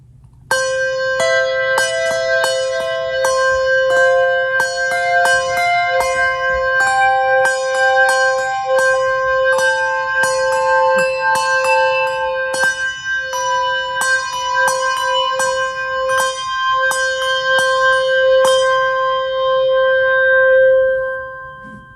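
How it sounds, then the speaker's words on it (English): Freshly polished brass handbells rung by one person, a series of clear, ringing struck tones forming a slow melody, each note sustaining and overlapping with the next, loud and close with no talking. "I just polished them last night, so you can get different bell sounds"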